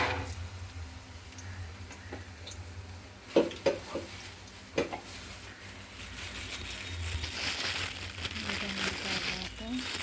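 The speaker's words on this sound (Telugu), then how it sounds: "ఒక 2 అప్పడాలు వేయిస్తున్నాను." Papads fry in hot oil in a pan, giving a continuous sizzle with a few sharp clicks and crackles, steady and close, alongside a person talking.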